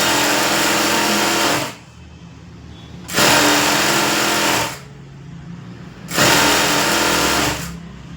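Sewing machine running a hem on a blouse boat neck: a loud, steady mechanical whir in three long bursts, each lasting over a second, with short quieter pauses between them and no talking.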